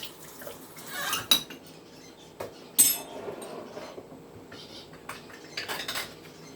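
A spoon clinks and scrapes against a dish as chunky sauce is spooned onto stuffed peppers, with a few sharp metallic taps and soft scraping, close and quiet, no talking.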